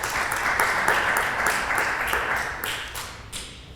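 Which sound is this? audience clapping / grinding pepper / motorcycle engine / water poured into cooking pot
audience clapping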